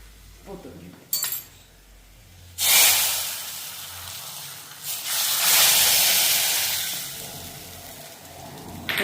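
A hot tempering with a pinch of byadgi chilli powder is poured onto cooked dal, setting off two loud sizzling hisses with a clink of a pan or spoon, while a voice speaks faintly at the start.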